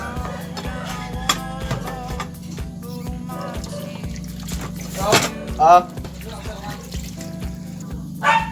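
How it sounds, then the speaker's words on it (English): Water runs and trickles over dishes at a kitchen sink during rinsing, a steady faucet stream with brief louder splashes and clinks, while a person talks throughout. "Next part is that we must rinse the dishes."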